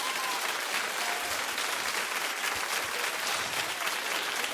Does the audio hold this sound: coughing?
no